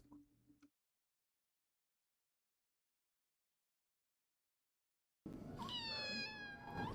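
A cat meows loudly and close up in a long, wavering, drawn-out call near the end, after a brief faint noise and a stretch of silence.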